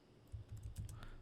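Keys clack on a worn computer keyboard in a quick burst of several soft, close taps, quiet and alone.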